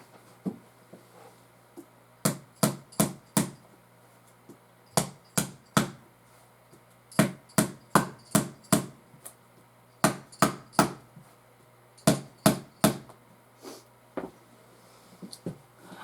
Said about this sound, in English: excuse the noise here for just a second while I get this lid back on there